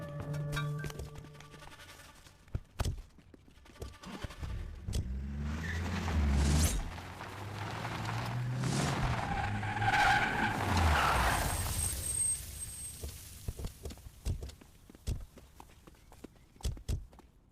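A car speeds off in an action scene from the Hindi-dubbed film Pushpa 2. Tires skid and squeal over a roaring, building engine, with scuffling footsteps and impacts before it and scattered thuds afterward.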